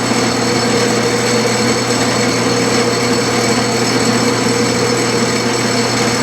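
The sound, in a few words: lathe spindle turning a lap with lapping compound, about 300 RPM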